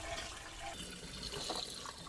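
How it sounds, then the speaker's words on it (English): A toilet flushing with the lever held down and the tank's water supply shut off, a steady broadband rush of draining water that runs evenly for about two seconds before stopping abruptly. "Keep pressing the lever to flush all the water."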